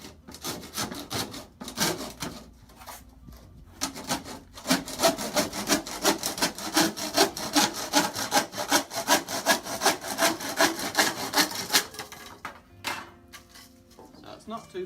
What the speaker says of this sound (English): if you're using a sharp handsaw, this cuts through it quite nicely